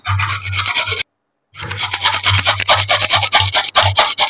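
A raw potato is rubbed against a grater in steady, rapid rasping strokes, close and fairly loud, with one short pause partway through.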